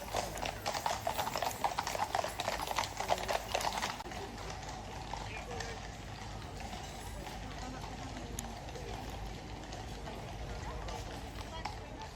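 A royal guard's horse clip-clops steadily on pavement amid a busy outdoor crowd murmur of tourists, most distinct in the first few seconds, then softer under background noise.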